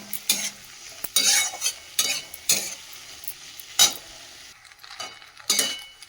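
Pasta with potato and turmeric being stirred in a pan on a home stove, with soft sizzling and repeated scraping and clinking strokes of a utensil at close range.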